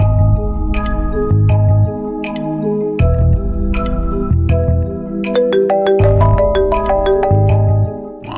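A mobile phone plays a loud, continuous melodic ringtone for about eight seconds, with steady repeating notes over a deep bass line and no talking.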